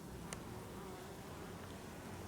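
Honeybees fanning at a hive fitted with a bottom board produce a faint, continuous insect drone that holds steady throughout, with no voices.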